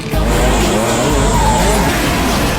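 Race cars roar past during a film race scene with a loud, dense engine drone and squealing tires, sustained and close throughout with no pauses.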